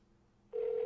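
Telephone ring tone on an outgoing call, a single steady electronic ring that starts abruptly and holds clearly over a faint background.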